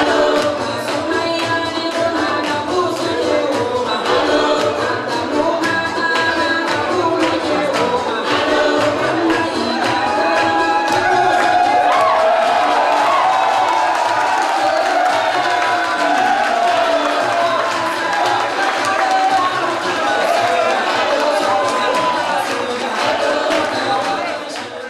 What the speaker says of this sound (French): c'est une foule enthousiaste qui assurait l'accueil